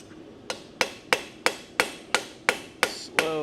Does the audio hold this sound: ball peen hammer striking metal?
yes